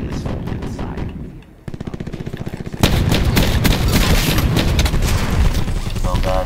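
Shotgun blasts from the SG12 with a flashlight attachment in Black Ops 4, with loud, close, rapid shots through a dense firefight of other gunfire and explosions.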